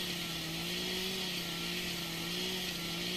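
A chainsaw in Farming Simulator 2013 runs continuously with a steady, loud buzzing drone and slight pitch wavering as it cuts trees in a forest, with no talk over it.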